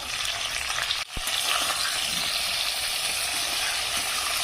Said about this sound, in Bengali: গ্যাসটা জোরে দিয়ে আলু আর কচুটা ভালো করে আমি ভেজে নেবো